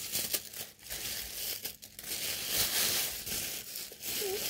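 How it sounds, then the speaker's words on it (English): Scissors snip through thin plastic bags while making a squishy craft, giving repeated close crinkling and cutting sounds with short pauses between snips. "So I'm going to cut some bags"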